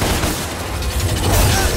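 Gunfire from the Devil May Cry video game, a dense, continuous barrage of shots and booms layered over a rumbling low-end, loud and steady throughout with a slight swell near the end.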